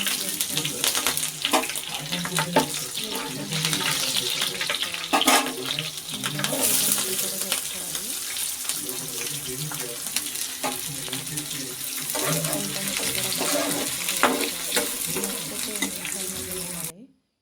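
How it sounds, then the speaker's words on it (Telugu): Onions and green chillies fry in oil in a pan with cumin and curry leaves, giving a continuous close sizzle and crackle with occasional clinks of stirring. "ఉల్లిపాయలు బాగా కలుపుతూ వేపుకోవాలి."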